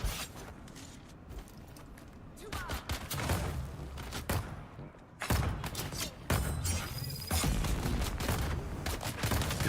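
Gunfire and turret shooting in a video game: dense bursts of rapid shots and mechanical clatter, loud and close, with brief gaps between volleys and a sharp metallic ring near the end.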